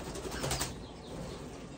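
A pet bird named Einstein flaps its wings and takes off, giving a brief, close burst of fluttering that fades quickly into quiet room tone.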